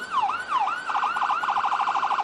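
Ambulance siren parked beside a wrestling stage at an arena show, loud and close, wailing slowly at first and then switching to a rapid yelping warble.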